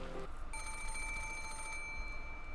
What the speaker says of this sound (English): suddenly the piercing sound of a phone rang through the room